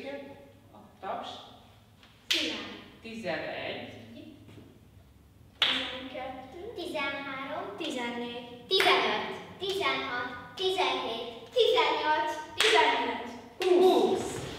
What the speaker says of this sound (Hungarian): Visszafelé is jön a taps.